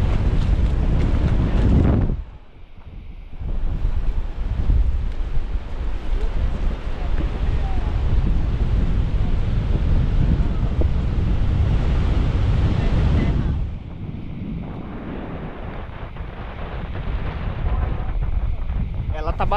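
Strong wind roars across a jangada's sail at sea on a fishing raft, a loud, steady buffeting rush that dips briefly twice before surging back.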